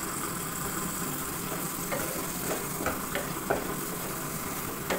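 Egg bhujia frying in oil in a pan, a dense continuous sizzle with a few light spatula taps and scrapes, close and steady throughout.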